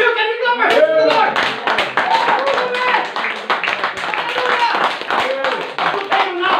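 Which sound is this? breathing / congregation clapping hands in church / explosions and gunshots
congregation clapping hands in church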